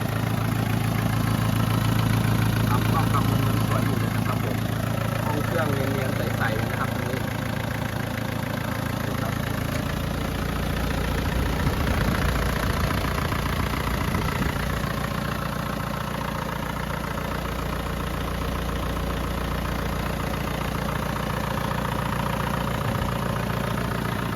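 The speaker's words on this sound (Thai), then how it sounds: "ฟังเสียงเครื่องยนต์กันนิดนึงนะครับผม" A 1997 Isuzu Dragoneye with a 2500 turbo engine idling steadily at close range, a constant low rumble with a faint high whine, no voices.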